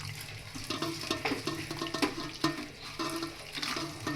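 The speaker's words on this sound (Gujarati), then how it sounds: "પછી આપણે તેમાં થોડું પાણી એડ કરી દઈશું." Water trickles into a dough mixture of leftover rotli with turmeric and garam masala, a faint stream with small splashes and stirring clicks, irregular and close.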